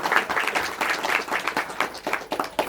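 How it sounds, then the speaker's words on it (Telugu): An audience at a religious gathering of devotees applauds with steady, dense clapping that continues throughout, loud and close. "వారికి ఒకసారి చప్పట్లు కొట్టడానికి"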